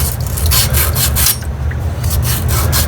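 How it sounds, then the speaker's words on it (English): Copper pipe end being hand sanded with 180 grit sandpaper, a close, steady rasping rub that continues for the whole stretch with a short slackening midway. "now I'm going with some sandpaper. This is 180 grit."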